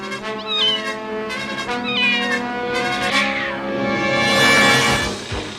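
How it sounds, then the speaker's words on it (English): A cartoon Saber Cat creature from He-Man and the Masters of the Universe lets out a drawn-out, wavering growling yowl that rises in pitch and intensity, sounding alone and close. "Uh-oh, Saber Cat."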